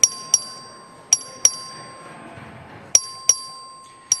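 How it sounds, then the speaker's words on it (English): Texas House record vote bell rung by the clerk in the chamber, seven sharp bright dings in irregular groups, clear and close over faint room murmur. "The clerk will ring the bell."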